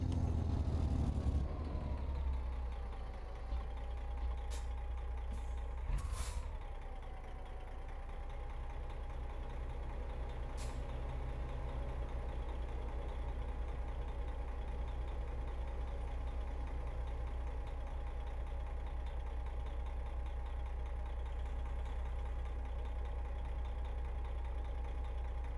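A diesel Freightliner FLD120 truck with a modded Detroit engine in American Truck Simulator idles with a low steady rumble after a brief rev at the start, holding an even drone with a few faint clicks.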